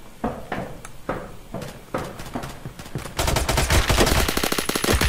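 Roblox Phantom Forces gunfire: several sharp single shots spaced roughly half a second apart, then a sudden loud, continuous rapid-fire burst that carries through the final two seconds, close and with no talking.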